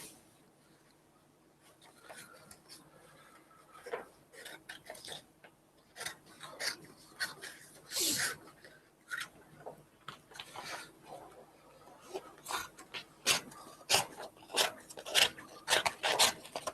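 Scissors or a blade cut off the edge of a painting canvas in a series of quiet, scratchy snips and rasps that grow denser toward the end, close and alone without talk.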